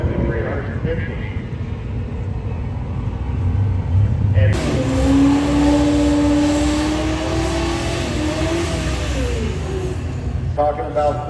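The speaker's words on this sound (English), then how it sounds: "That sounds like an LS swap." A Camaro drag car with an LS engine swap revs loudly at a drag event, its engine note rising and holding for several seconds over crowd noise and background chatter.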